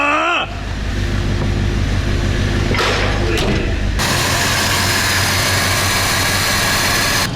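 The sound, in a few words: old IZh motorcycle engine first start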